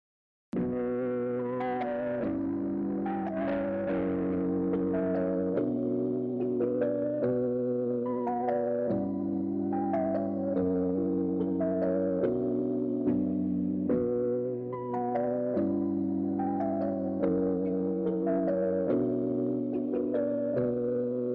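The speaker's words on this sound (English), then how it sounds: "sounds like you're kind of like slowing down and speeding up the tape kind of vibe, which makes it warble" Electronic melodic notes repeat in a looping pattern, their pitch wobbling and wavering slightly like warped tape.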